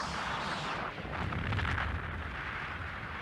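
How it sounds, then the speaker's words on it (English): A massive explosion from an animated space battle film, a deep rumbling blast that swells after the first second and rolls on steadily without pause. "Massive explosion that didn't kill a ton of Gambless ships."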